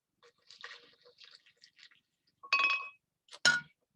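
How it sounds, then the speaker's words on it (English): Water poured into a blender jar at home, heard as a few short liquid splashes and clinks, with soft handling noises first and then two louder bursts near the end, close and fairly quiet. "So here's some water. I'm just going to pour that in."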